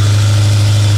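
Dodge Hellcat running on an Armytrix straight-pipe exhaust, a loud, steady low engine drone held briefly at close range, with no voices.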